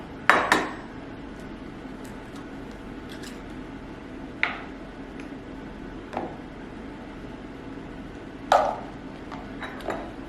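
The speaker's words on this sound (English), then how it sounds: "add in the eggs and the milk and mix it up with the cornmeal" Eggs, milk and cornmeal mixed in a mug: a few sharp utensil clinks against the mug, spaced irregularly over quiet background, close and fairly crisp.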